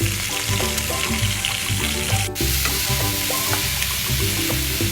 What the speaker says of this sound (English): We are going to saute the onions till it becomes nice and golden brown.